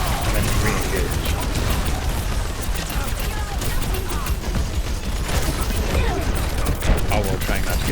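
Sustained, dense, rattling fire from D.Va's guns in Overwatch continues without a break, loud and gritty with constant mechanical clatter and busy game noise, while a player talks over it.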